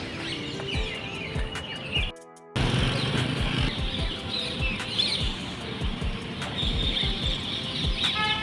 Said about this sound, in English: The birds are chirping and it's amazing.